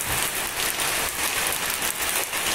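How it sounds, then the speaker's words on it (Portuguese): Steady rain falls outdoors where an old Chevrolet Astra is being repaired in Cocos, Bahia, a continuous broadband hiss with faint pattering swells and no voices. "Chuva é o que Deus dá."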